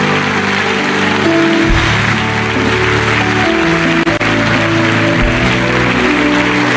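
A church congregation claps steadily, a dense rain-like patter of many hands continuing under sustained keyboard chords, with no voice over it.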